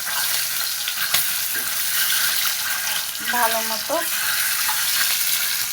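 Beaten duck eggs frying in hot oil, a loud, constant sizzle with an occasional tap, while a voice briefly speaks over it midway.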